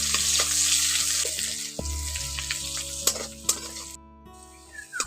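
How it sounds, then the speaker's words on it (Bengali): Chopped onion sizzles in hot oil with tempering spices, a steady loud frying hiss with occasional stirring clinks from the pan, no talking. "পেঁয়াজটাকে একটু ফোড়নের সঙ্গে ভেজে নিচ্ছি।"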